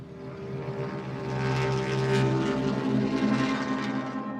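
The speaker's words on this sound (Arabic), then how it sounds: "سمعت صوت بعيد زي صوت طيارة" A steady propeller airplane drones overhead, a broad rumbling hum that swells slightly louder midway and holds, with no voices.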